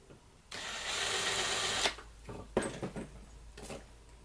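A drill bores holes in a metal lightsaber part, first in a loud continuous grinding burst of over a second, then in several shorter, choppier bursts with pauses between them.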